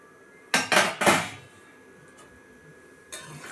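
Sun-dried jujubes tipped into sugar syrup in a pan for a pickle make a short, loud clatter of several quick rattling bursts against the metal, then a lone faint knock a couple of seconds later.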